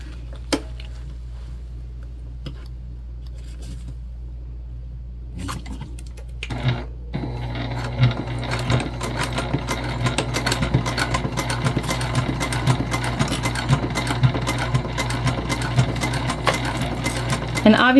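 A sewing machine bastes a gusset onto a travel sling bag at an eighth-inch seam allowance. A low hum and a few clicks come first, then rapid, continuous stitching runs from about midway to the end.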